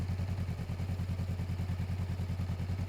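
A Honda motorcycle engine idles steadily with a low, even, rapid pulsing throb and no voices.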